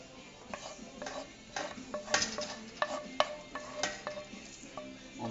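Meat stirred into a sauce with tomatoes in a pan, with repeated utensil scrapes and clinks against the pan over a soft sizzle, close and fairly quiet.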